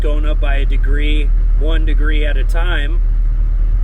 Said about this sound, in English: It's going to be idling for a while because for some reason it is hard to get air bubbles out of this truck.